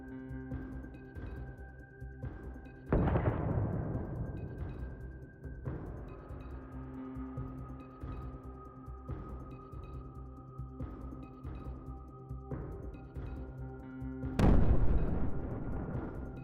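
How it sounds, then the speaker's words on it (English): Two heavy, booming explosions of a Russian armored vehicle several seconds apart, each with a rumbling decay, amid scattered distant thuds and pops of artillery and drone attacks. "Here is a powerful explosion of a Russian armored vehicle."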